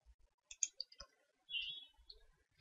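A computer mouse clicks a few times in quick succession, soft and close in an otherwise quiet room, with a brief faint shuffle between the clicks and no talking.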